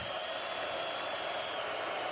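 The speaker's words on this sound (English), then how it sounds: "Crowd trying to get into it." Steady crowd roar filling a college football stadium during a Michigan vs Indiana game as Michigan nears the goal line, a continuous broad wash of many voices with no breaks, moderately loud and sustained throughout.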